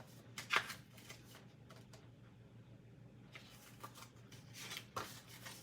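Cardstock being trimmed down for a handmade card at a stamping craft table: a sharp, close slicing swipe near the start, soft paper rustles and handling, then another brief cut near the end, all over a steady low background hum with no talking.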